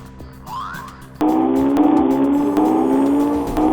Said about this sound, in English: one piece of gadgetry that really makes the GTR stand out is its new launch control